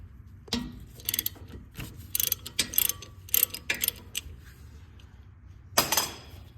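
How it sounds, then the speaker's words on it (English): Ratchet loosening two 13 mm brake caliper bolts on a 2014 Ford F150, heard as close, quick bursts of metallic clicking with short pauses between strokes and a longer gap before a final burst. "then you take these caliper bolts loose, which is two 13 millimeters."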